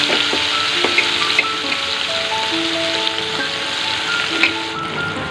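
Onions frying in oil for a chicken curry, a loud, close, continuous sizzle with popping crackles throughout, no one talking.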